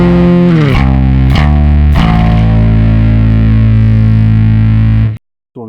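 A heavily distorted bass guitar plays the Tool Fear Inoculum riff thickened with chordal tones: three sharp plucked attacks, then a long sustained, buzzing chord ringing loud until an abrupt cutoff.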